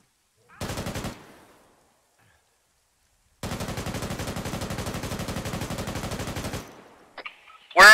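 Automatic gunfire in a Chernobyl-themed horror video game: a short burst, a pause, then a long sustained rapid-fire burst of about three seconds, loud and close, ending with a brief voice.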